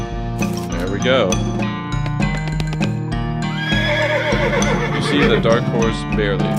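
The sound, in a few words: horse neighing in the video game West of Loathing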